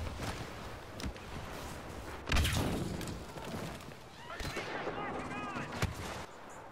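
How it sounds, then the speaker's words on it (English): Pulse cannon blasts and other weapon fire go off in a Star Wars video game battle, heavy booming shots and sharp bursts in a busy, chaotic mix. "that guy got me with the pulse cannon"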